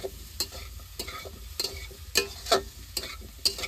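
Pieces of taro fry in oil while a metal spatula stirs them, sharp scraping clacks arriving every half second or so over a soft continuous sizzle, close and clear.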